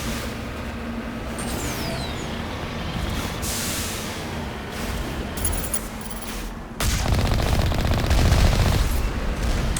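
A heavy Alliance turret in Mass Effect fires as a sustained, dense stream of shots over a rumbling battle bed. It grows louder and harsher toward the end, and no voices are heard.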